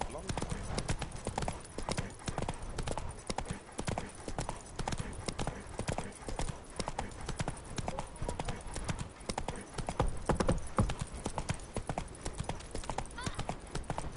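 Hooves of Geralt's horse Roach clip-clop steadily in The Witcher 3, a regular walking rhythm of hollow knocks heard under ongoing dialogue between characters.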